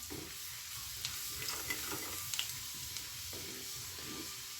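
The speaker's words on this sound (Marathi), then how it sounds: "जिरा आणि मोहरी छान फुललं की त्यात घालायचे बारीक चिरलेला लसूण." Finely chopped garlic frying in hot oil with cumin and mustard seeds for shev bhaji, a soft steady sizzle with a few sharp pops and spatula scrapes, fairly quiet and close.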